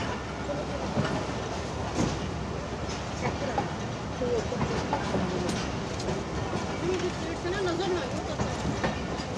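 The Millat Express runs on rails departing Khanewal Junction, a steady close rumble and rattle of the carriage with faint voices in the background.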